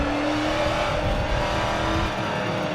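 In Forza Motorsport 7, played on a G29 steering wheel, a car engine hums loudly and continuously, its pitch easing down slightly through a corner. No one talks.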